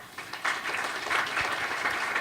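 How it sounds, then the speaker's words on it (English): A crowd claps steadily in a burst of applause at a tech conference strategy session, moderately loud and continuous for a couple of seconds. "give a round of applause to all the speakers and panelists you heard today"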